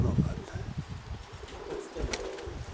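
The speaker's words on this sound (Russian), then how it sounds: "внизу стоят голуби 4 штуки" Pigeons coo outdoors in gusty wind, with low, soft, repeated calls rising and falling under a constant rush of wind noise.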